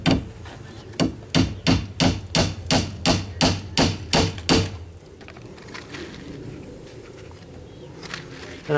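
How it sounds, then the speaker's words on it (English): Wire mesh screening is stapled onto a chicken coop, making a quick run of about a dozen sharp, evenly spaced stapling thumps, close and loud, before the sound settles into quieter handling noise. "now I'm just gonna kind of bring this up and staple this side first"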